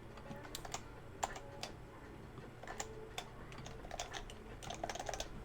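Quick irregular keystrokes on a computer keyboard during coding work, sharp clicking taps scattered throughout over a low steady room hum, close and fairly quiet.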